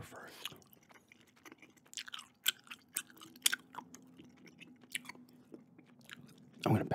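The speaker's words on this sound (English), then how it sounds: "gum chewing ramble here for December." Gum being chewed close to the microphone in an ASMR setting, a run of moist clicks and smacks at irregular intervals, quiet and intimate, with soft speaking underneath.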